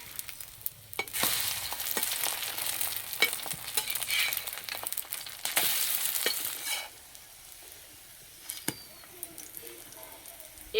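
Egg veg paratha sizzling in oil on a tawa, loud continuous frying hiss with scattered spatula clicks and scrapes, easing to a quieter, softer sizzle toward the end.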